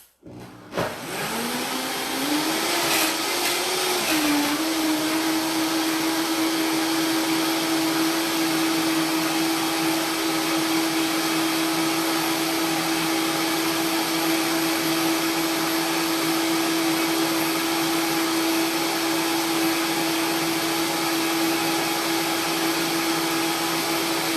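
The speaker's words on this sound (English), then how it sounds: "So I'm going to turn the blender on." A loud, steady motor whir from a blender running continuously at a constant pitch while making a coconut milk smoothie, with no talking.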